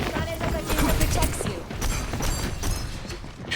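Rapid gunfire from an Overwatch 2 match, with Ana landing two headshots in a row on a discorded Winston: dense, loud bursts of shots and impact thumps over busy game noise and a voice talking.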